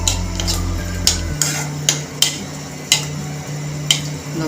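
A spoon stirring dry fruit in a pan on medium heat for suji laddu, a series of sharp metallic clinks and scrapes roughly every half second over a low hum.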